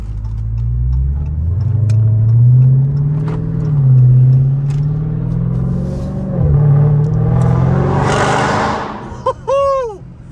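A supercharged 707-horsepower Dodge Charger Hellcat with a mid-muffler delete, in sport mode, rumbles deep and close, its revs rising and falling in repeated swells before a sharp final burst.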